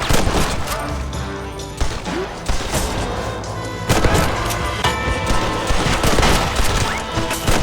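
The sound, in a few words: gunfire in the video game Red Dead Redemption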